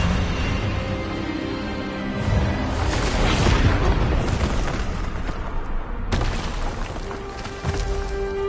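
A spell is cast in a Hogwarts Legacy duel, a dense, roaring magical blast with booming bursts that swell and crash over several seconds, then a sharp new impact near the end, loud and continuous with no clear speech.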